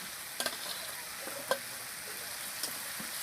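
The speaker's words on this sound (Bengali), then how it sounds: "এরপরে আদা বাটাটা দিয়ে দিচ্ছি, আদাটা দিয়ে দিচ্ছি।" Ginger paste frying with chicken in a pan gives a soft, steady sizzle, broken by a few light clicks of a spoon against the pan; no voices.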